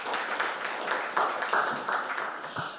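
An audience at a Korean carbon-neutrality technology forum claps for a few seconds, a soft, somewhat distant patter of many hands in a hall.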